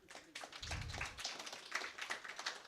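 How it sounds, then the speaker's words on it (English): Audience applause for panelists at a reparations discussion event, with scattered claps building into steady clapping and a low rumble early on, fairly faint. "So first, perhaps I can ask for a round of applause for my panelists."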